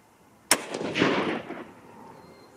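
.243 Winchester rifle firing 90gn deer hunting loads: one sharp, loud shot cracks out and rolls into a fading echo lasting about a second. The onset of another report cuts in at the very end.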